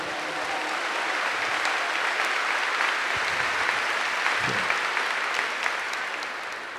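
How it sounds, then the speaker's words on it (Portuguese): A church audience claps together in sustained, dense applause that holds at an even level throughout, broad and continuous with no speech over it. "Give the Lord a big clap for these 3 words."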